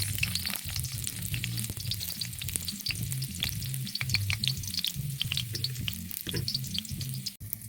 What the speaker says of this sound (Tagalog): Okay, dahil mainit na yung mantika, ibutang na natin ang Bombay kag ahos.